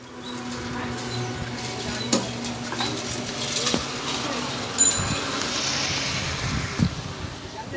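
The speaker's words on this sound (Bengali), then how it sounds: "মাছ ভাজা বসিয়ে দিয়েছি" Fish fries in a pan at home with a continuous sizzling hiss, broken by a few louder clicks and scrapes of stirring or utensil contact.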